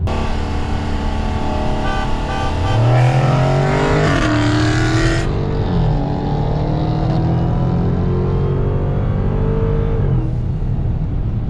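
A Dodge Hellcat accelerating hard in a race against a Charger R/T: loud, continuous engine roar rising in pitch through the run, with a gear change partway and the sound staying close and dominant.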